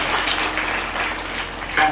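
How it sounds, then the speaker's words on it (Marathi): An audience at a kirtan gathering gives a round of applause, a dense wash of clapping heard under a speaking voice, steady throughout with a brief swell at the end. "त्यांच्याकरता एक स्पेशल टाळी वाजवली"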